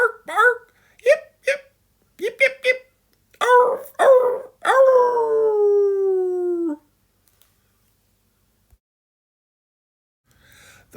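A voice imitates dog noises: three barks, a quick run of yips, a few gruff woofs, then a long drawn-out howl that fades into silence.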